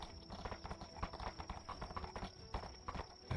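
Horse hooves clip-clop in a steady, uneven rhythm at moderate distance, a continuous run of faint thuds and knocks with no clear talk over them.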